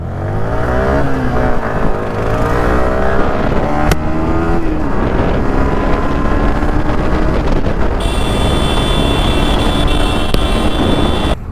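A Yamaha R15 V3 sport motorcycle roars at high speed with worn tyres, its pitch sweeping up through gear changes with heavy wind rushing past the microphone.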